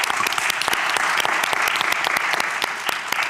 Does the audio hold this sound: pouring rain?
no